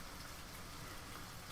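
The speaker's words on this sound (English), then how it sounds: "I really hope the sound of the rain outside is not too loud." Rain falls outside in a steady, dense hiss of drops on surfaces that holds unbroken and evenly loud throughout.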